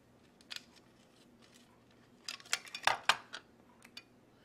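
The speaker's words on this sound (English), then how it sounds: "Right now I'm just getting the nut on there." Metal clinks and scrapes as a Nylock nut is threaded by hand onto a metal quadcopter frame, a few light taps early, then a close, clustered run of sharper metallic clicks and rattles, with no talking.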